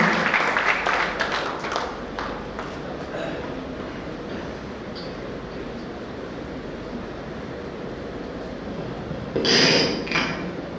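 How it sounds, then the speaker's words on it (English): At an MBA orientation, an audience applauds as a speaker is welcomed to the podium, a burst of clapping at the start that fades into a low, hushed room, followed by a brief rustle near the end. "With a huge round of applause, let's welcome sir to the podium"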